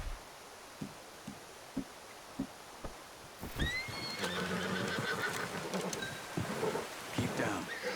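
Horse whinnies in Red Dead Redemption 2, a shrill rising neigh near the middle followed by snorting and clip-clop amid rustling, after a few soft thuds in quiet ambience.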